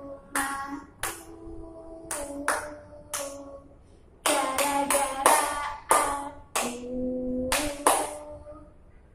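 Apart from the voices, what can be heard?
rhythmic hand clapping along with a children's song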